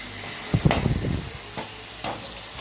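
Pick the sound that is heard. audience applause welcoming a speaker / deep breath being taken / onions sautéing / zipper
onions sautéing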